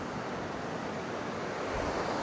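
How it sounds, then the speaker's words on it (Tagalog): Strong sea waves breaking on a shore at night during a night fishing trip, a continuous loud surf roar that rolls on without pause. "kaya medyo malakas po yung alon."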